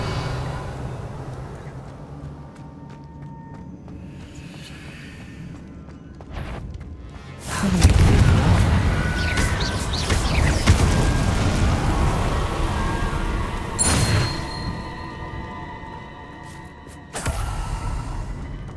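Confringo fire spell blasts in the Hogwarts Legacy video game, loud booming explosions with crackling bursts and rumbling debris, several hits in sequence among game effects.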